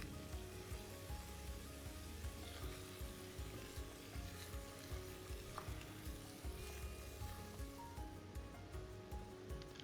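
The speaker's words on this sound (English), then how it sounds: "Add all the vegetables except for the green beans and stir fry." Vegetables stir-frying in sesame oil in a pot for pork miso soup, a steady dense sizzle and crackle with occasional stirring scrapes, continuous and close throughout.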